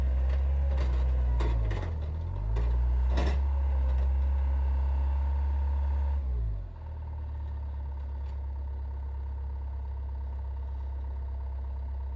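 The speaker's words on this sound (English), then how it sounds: "it's taking a lot of effort to get the skid steer back up on the trail and lined up properly" A skid steer working on a snowy mountain trail, its engine droning loud and close with rising and falling revs and mechanical clanks, then settling to a lower steady idle.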